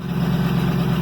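Warmed-up tractor engine idling near an IH 1150 feed grinder, a steady low rumble with an even hum and no change in speed, close and fairly loud.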